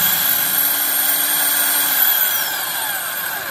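Cordless 24V Japanese-domestic concrete hammer drill at its normal, slower speed, giving a steady close motor whine that eases slightly toward the end, with no voices.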